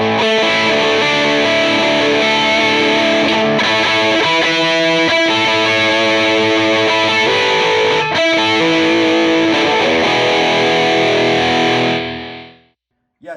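Electric guitar played through a Kilt overdrive pedal, a loud, close, gritty driven tone with chords and riffs that sustain steadily, then cut off abruptly near the end, no talking.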